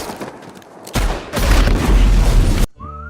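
In a Tarantino film scene, a loud, roaring explosion bursts in after a brief rumble and holds for over a second before cutting off abruptly, leaving a short musical tone.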